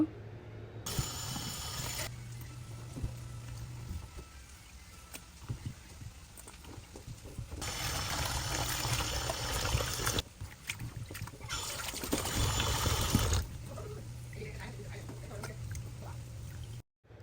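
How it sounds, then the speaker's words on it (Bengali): Tap water runs and splashes in bursts while fish is rinsed in a home kitchen for a traditional Bengali baspata fish dish, several loud broadband gushes separated by quieter handling sounds. "মাছটা ভালো করে ধুয়ে নিয়েছি"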